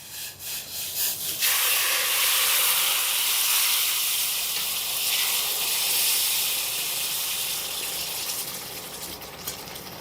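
Water poured into a hot pan during cooking of a Navaratri offering, bursting into a loud, sustained steamy hiss that fades gradually after a few clattering sounds at the start.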